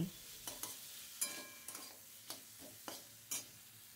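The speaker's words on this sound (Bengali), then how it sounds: "এটা মশলা দিয়ে আমি একটু ভালো করে কষিয়ে নিচ্ছি আলু পেঁয়াজের সাথে।" Potatoes and onions frying with spices in a pan for Bengali banana-flower curry, a soft low sizzle broken by regular spoon scrapes and taps every half second or so, quiet and close.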